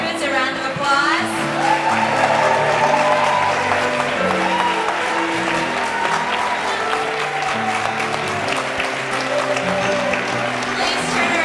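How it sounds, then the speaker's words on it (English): A crowd at a graduation ceremony gives the graduates sustained, loud applause, with scattered voices and cheers mixed into the clapping throughout. "Please give all of our graduates a round of applause."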